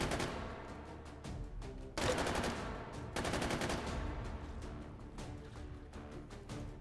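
An MG42 machine gun in the VR game H3VR fires long, extremely rapid bursts, a ripping stream of shots with short breaks between strings, loud and close.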